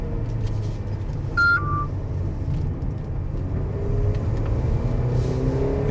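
A Mercedes GLB SUV in sport driving mode pulls ahead, its engine and road noise forming a steady rising drone heard from inside the cabin, with a brief electronic chime early on.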